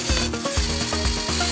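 A Lego pinsetter mechanism setting bowling pins gives off steady ratcheting, clicking gear noise with soft plastic knocks falling in a rough repeating rhythm about every half second, close and continuous.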